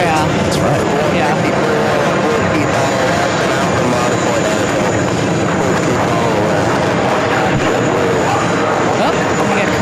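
A Condor airliner passes at JFK airport with a loud, continuous engine roar, while people talk over it.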